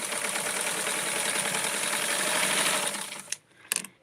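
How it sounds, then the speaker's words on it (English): A sewing machine stitches fabric for a small Blythe or Skipper doll's candy corn dress, running in a loud, steady mechanical whir for about three seconds before stopping, followed by a few sharp clicks. "So now I am going to sew this down because this is going to be put through the serger too."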